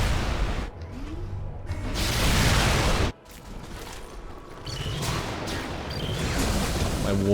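Sustained orbital laser blasts and explosive combat strike units in the strategy video game Civilization: Beyond Earth, with a loud roaring burst, a sudden cut, then rumbling booms and mechanical effects building again.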